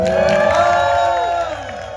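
A storytime audience cheers and whoops loudly, a burst of mixed voices with a rising shout that tails off over about two seconds.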